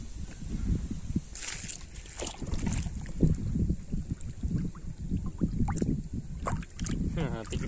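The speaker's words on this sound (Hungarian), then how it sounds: "Meg fúj a szél." Gusty wind blows outdoors beside the water during a fishing session, rumbling and buffeting the microphone in uneven surges while someone speaks Hungarian over it.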